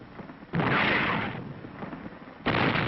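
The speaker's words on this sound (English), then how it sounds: "Artillery commenced to bombard the city" Artillery bombards the city of Naha on Okinawa in 1945, heavy booming blasts rolling in and out, a loud burst at the start of the second half and another near the end, with a rumbling roar between.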